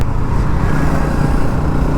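Bajaj Pulsar NS motorcycle exhaust running loud and steady close by, a dense continuous engine roar with no distinct rev peaks and no talking over it.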